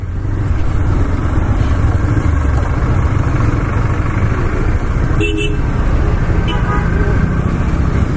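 Heavy traffic jam on a hill road toward Darjeeling and Mirik, with a loud constant engine and road rumble close by and short car horn toots in the middle of the stretch. A voice talks now and then.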